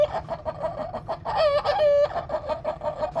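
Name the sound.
man imitating a rooster and hen calling together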